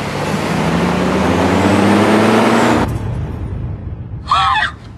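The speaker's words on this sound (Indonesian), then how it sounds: "sebuah truk melaju dari arah samping dan menabrak mobil Namguk" A truck roars in from the side toward a car in a film scene, a loud, rising broadband engine roar that cuts off abruptly into quieter noise, followed by a brief high screech.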